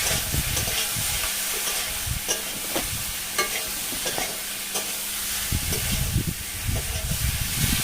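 Catfish pieces fry in spice masala while being stirred, a loud bubbling sizzle broken by repeated spoon scrapes and clacks against the pan, with a brief low hum in the middle.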